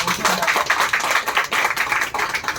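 Audience applauding at a Karimnagar photographers and videographers association meeting during state elections, dense steady clapping from a crowd lasting throughout, fairly close.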